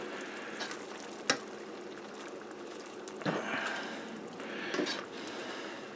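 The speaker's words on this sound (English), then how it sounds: "I'm going to go ahead and add my tomatoes" Tomatoes sizzling in a frying pan alongside garlic butter shrimp and gnocchi, a soft continuous fry with a sharp clink and a couple of stirring swells, fairly quiet and without talk.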